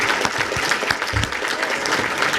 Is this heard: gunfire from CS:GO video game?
no